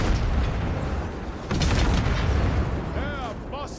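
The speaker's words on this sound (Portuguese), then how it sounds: "É muito gostoso o barulho do canhão, velho." Cannon fire in the Total War: Warhammer 3 video game, a dense continuous roar of booming artillery blasts with a louder surge midway, while battle noise and shouting voices sit underneath.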